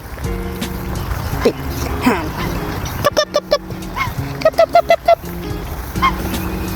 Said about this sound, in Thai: เป็ดหรือห่าน